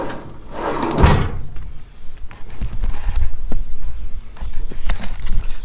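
Ball-bearing drawers on a padded Mac tool chest slide open and shut, a smooth rolling whoosh followed by soft clunks and rattles nearby.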